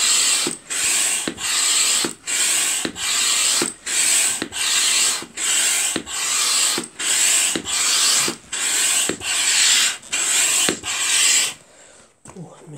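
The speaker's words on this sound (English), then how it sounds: "I'll pump it up to about maybe" A hand pump inflates a Vango airbeam tent in about fourteen even, rhythmic strokes, each a loud, close whoosh with a click between strokes, before the pumping stops.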